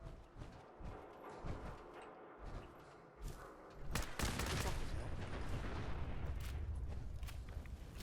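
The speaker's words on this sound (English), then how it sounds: "A huge explosion." A huge explosion in the video game Fallout 4 erupts partway through, a loud broadband boom that settles into a sustained rumbling roar, preceded by scattered crackling gunfire-like bursts.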